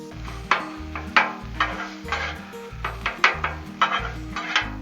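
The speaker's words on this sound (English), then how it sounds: "That sausage is cooking." Sausage, peppers, onions and potatoes fry on a Blackstone griddle, with a steady sizzle and repeated scraping and clacking of a spatula turning the food in an irregular rhythm, close and moderately loud, no talk.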